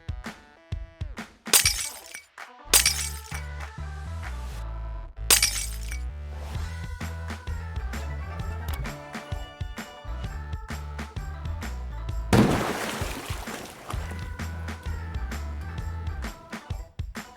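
Glass shattering on a construction site after a crane placement, with several loud sharp breaking crashes, one long burst later on, over a steady droning machine hum.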